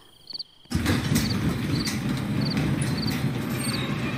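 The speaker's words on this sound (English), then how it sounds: "And I got the cricket music" Crickets chirp steadily in a video game's outdoor ambience, a dense rhythmic trill starting abruptly after a short quiet moment and continuing evenly to the end, with no voices over it.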